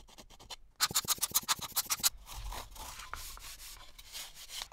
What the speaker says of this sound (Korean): 사포로 다듬어 주었습니다